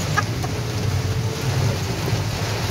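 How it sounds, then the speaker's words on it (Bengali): Heavy rain falling during a thunderstorm, a dense steady wash of rainfall with a low rumbling undertone, constant and fairly loud, with no voices. "অসম্ভব জোরে বৃষ্টিটা এসে গেছে।"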